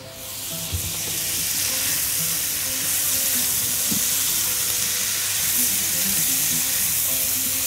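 Tomatoes are stirred into a pan of hot oil for a meatball pasta dish, giving a steady, loud sizzle and hiss throughout with a few soft spoon scrapes and clunks mixed in.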